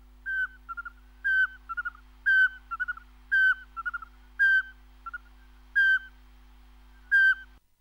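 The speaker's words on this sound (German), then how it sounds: "Der Sperlingskauz." A Eurasian pygmy owl calls alone: clear, piping whistled notes repeated steadily, single hoots alternating with short runs of two or three quicker notes, over a faint constant background hum.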